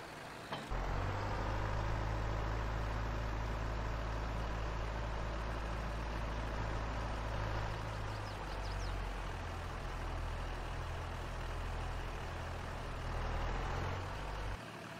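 Chevy 2500 pickup truck engine in Farming Simulator 22, idling with a steady low rumble that runs loud and unbroken for nearly the whole stretch, then cuts off at the end.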